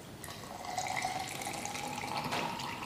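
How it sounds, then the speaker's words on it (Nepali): Lukewarm water is poured into honey in a container for turmeric water, a soft, steady trickle with faint gurgling tones, quiet and close, with no voices. "अब यसमा तपाईँले मिसाउनु पर्ने हुन्छ मन तातो पानी"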